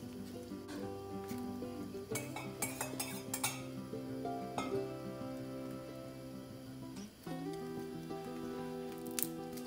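Eggplants and other ingredients go into a pressure cooker with onions and tomatoes, giving close metallic clinks and scrapes of utensils against the pot, several sharp knocks scattered over a faint background.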